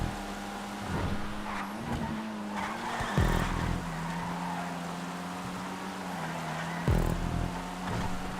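Compact race car in a GTA race understeering, its engine humming under repeated sharp tire skids and squeals, with several distinct slides and revving.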